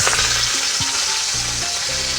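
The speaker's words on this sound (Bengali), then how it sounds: "তেলটা ভালো গরম হয়ে গেছে, এবার আমি এর মধ্যে মাথাটা ছেড়ে দিচ্ছি।" A rohu fish head fries in hot oil with a loud, steady crackling sizzle, close up, with some low clinking from the pan underneath.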